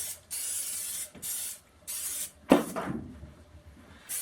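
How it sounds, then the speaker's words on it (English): Three steady hissing bursts of canola oil from an aerosol spray can onto a whole turkey, each about a second long, followed by a clunk and a fading rattle. "we're going to go ahead and hit it with some canola oil spray"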